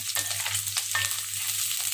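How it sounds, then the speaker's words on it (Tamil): Cleaned cauliflower frying in hot oil in a pan and being stirred, a steady close sizzle with scraping stir strokes, no talk. "எண்ணெயில் போட்ட உடனே நல்லா வதக்கிடலாம்."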